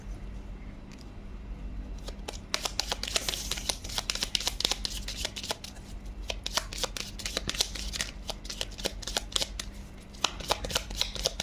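Tarot cards are shuffled by hand in a long run of quick, crisp riffling flutters and snaps, close and fairly quiet.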